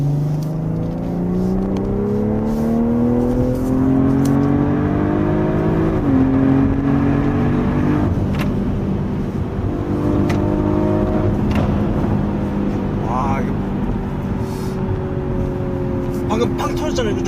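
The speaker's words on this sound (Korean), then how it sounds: "제가 잠깐 가속을 좀 해볼 건데요. 네, 스포츠 모드예요." A BMW M340i in sport mode with an aftermarket-tuned exhaust accelerates hard through rising engine pitch, with a shift and repeated climbs, heard loud from inside the car as people talk over it.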